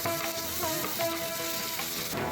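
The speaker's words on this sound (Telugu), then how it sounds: "ఇవి వేగాక 1 స్పూను అల్లం వెల్లుల్లి పేస్ట్ వేసి కలపాలి." Ginger-garlic paste frying in oil with dried red chillies and curry leaves in a pan, a loud, close, continuous sizzle with faint stirring movement, with no talking.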